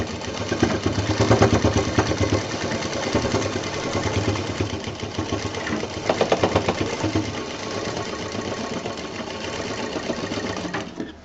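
A sewing machine stitches the folded seam of a fabric bag in a fast, steady mechanical whir, running continuously with slight pulses in speed and no talking.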